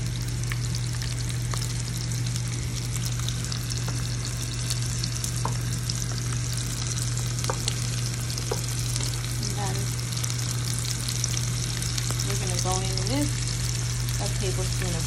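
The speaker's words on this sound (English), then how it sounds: "Let that saute together." Thyme and vegetables sizzle steadily in hot oil for an escovitch sauce, a constant loud frying hiss with occasional faint clinks of stirring and no talking.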